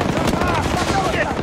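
Gunfire in the video game Battlefield 2042, a dense rapid burst of automatic shots filling a short moment, loud and close with a voice mixed in.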